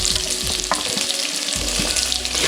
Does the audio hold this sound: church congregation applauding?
no